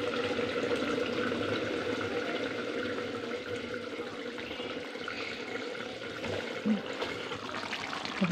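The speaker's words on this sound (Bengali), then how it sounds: "আর এই গামলায় ঢেলে ফেলবো।" Fish curry cooked with aubergine and potato is poured from the pot into a bowl, giving a steady liquid splashing and pouring noise at close range with faint clatter, and no one speaking.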